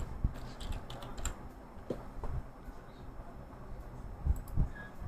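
Rapid clicking of computer keyboard keys as a short prompt is typed into photo-editing software, a close, irregular burst of keystrokes with small pauses and no talk.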